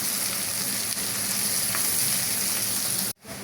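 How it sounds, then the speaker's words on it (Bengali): Onion frying with cinnamon, bay leaf and cardamom in hot oil gives a loud, continuous close sizzle that cuts off abruptly near the end. "পেঁয়াজের সাথে আমি একটু দারচিনি, তেজপাতা আর এলাচ কাটা দিয়ে দেবো। এখানে এটা একটু ভেজে নেব।"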